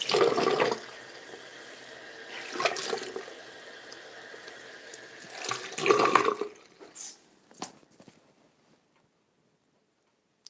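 A running tap gushes in bursts while a makeup sponge and hands are rinsed under it, with splashing surges and a slow trickling fade into near silence.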